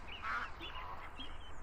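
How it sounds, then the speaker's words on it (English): A duck in the VR Chat game Udon Bird Sanctuary gives a few quiet nasal quacks, soft and close, with no one talking. "You gluttonous duck!"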